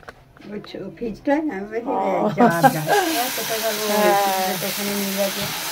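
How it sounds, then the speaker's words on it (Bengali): Batter hits a hot pan brushed with oil and fries with a steady, bright hiss that starts partway through and continues, while a voice talks over it from the start. "এই যে এইভাবে জাস্ট ভাজা হচ্ছে"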